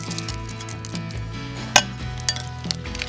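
Carnelian agate crystals clink into a foot bath, a few sharp ringing taps against the basin, the loudest near the middle, over a steady background hum.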